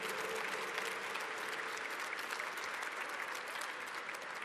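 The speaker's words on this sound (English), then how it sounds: "he should hear applause from North Dhaka" Sustained applause from a large audience at a Bangladesh 50th anniversary celebration, greeting the mayor as steady, dense clapping at an even, moderate level, with no voices over it.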